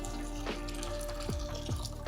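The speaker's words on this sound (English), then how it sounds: "just pour the boiling water in to cover up the top of the leaves" Boiling water is poured from a kettle over peace lily leaves in a small betta fish tank, giving a steady close splashing and trickling of liquid with gurgling bubbles throughout.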